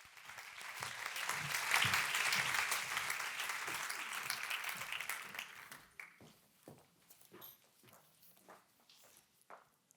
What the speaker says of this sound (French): Alors, applaudissements, Monsieur Guibel.